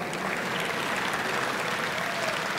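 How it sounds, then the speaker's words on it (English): A luncheon crowd at a Congressional Black Caucus conference applauds steadily, a dense, even wash of clapping throughout. "So let's just give her a big round of applause."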